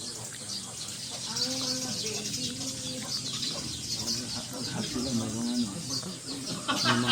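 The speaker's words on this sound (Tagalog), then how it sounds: "May mga manok." Chickens cluck and call repeatedly outdoors in La Union, a busy layer of short, choppy bird calls that continues under nearby people talking.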